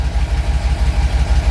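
A car engine with a freshly swapped 4L80E transmission idles steadily up close, a loud low rumble pulsing in an even, regular rhythm with no other sounds.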